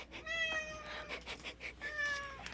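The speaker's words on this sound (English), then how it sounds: "I had to pause it real quick because my cats wanted in the bedroom." Two house cats meow indoors near a bedroom door, several drawn-out, rising and falling meows in close succession, fairly near and moderately loud, with no talking.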